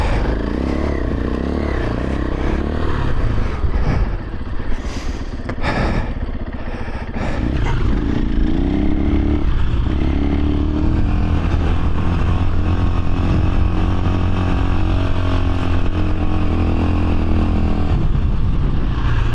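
A KTM 500 EXC-F dirt bike on its first off-road ride gives a continuous engine drone with surges of revving, along with wind, scraping and clattering from the rough ground.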